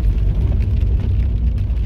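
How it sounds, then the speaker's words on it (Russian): Steady rain noise, a dense broadband hiss with low rumble, continuous and fairly loud, heard alone without talk for about two seconds. "Это вот такой вот шум дождя сегодня."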